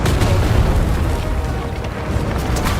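Tank fire exploding on arrival in a video game makes a dense, loud, continuous rumble of booming blasts that never lets up.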